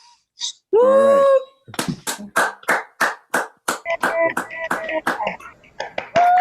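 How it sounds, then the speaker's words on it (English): Online participants on an unmuted call clap for Lindy Hop legends, producing a scattered series of sharp, uneven claps in a steady patter, with a brief vocal sound near the start. "please unmute and please just give a round of applause for everyone right now"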